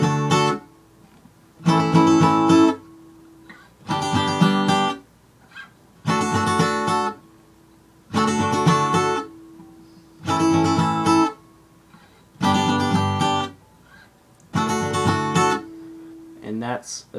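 Guitar plays an intro in D, eight evenly spaced strummed chord bursts separated by short silences, close and fairly loud, with no talking.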